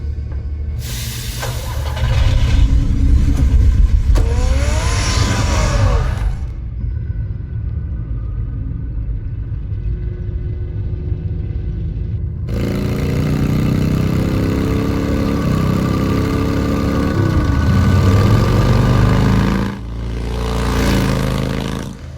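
The Batmobile's engine in the Batman Telltale game, rumbling loudly as it revs and roars, dropping out to near silence, then settling into a deep, steady idle before a final surge.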